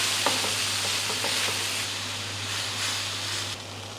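Flour, onion and milk being stirred together in a pan over low heat, a steady close frying hiss with soft scraping strokes early on and a constant low hum underneath, no voices.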